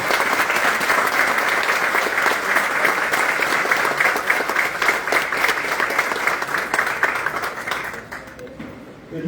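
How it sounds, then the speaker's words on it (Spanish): Warm, sustained applause from the audience at a book presentation, greeting the guests and the author of an engineering book; dense clapping holds steady for several seconds, then tapers off abruptly near the end. "Pido un aplauso para ellos."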